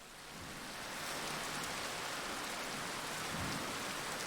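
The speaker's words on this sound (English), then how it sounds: "It's raining, that's not good tidings." Steady rain falls in the video game Final Fantasy XIV, a dense, even hiss that fades in over the first second and then holds, with no voices over it.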